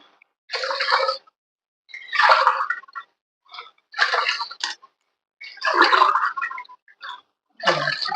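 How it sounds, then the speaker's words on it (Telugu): Water poured by the glassful into rice for pulagam, heard as five separate splashing pours, each about a second long, close and fairly loud with short silent gaps between them. "రెండు గ్లాసులు వాటర్ అనేది పోసుకోవాలి"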